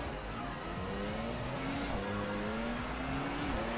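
A race car's engine drones as its tires squeal through a spin in Test Grand Prix Challenge on PS2, pitch rising and falling in a continuous whine of skidding rubber.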